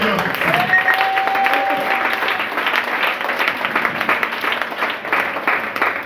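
A church congregation breaks into sustained applause and acclaim for God, with dense clapping filling the room while a voice carries over the top.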